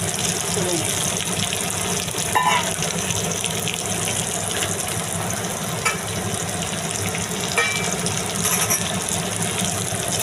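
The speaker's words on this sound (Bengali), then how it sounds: "দেখুন ফুল ফ্লেমে ভেজে নিচ্ছি" Potatoes frying in hot oil on a full flame, with a steady, dense sizzle and crackle running throughout at close range and occasional faint clinks.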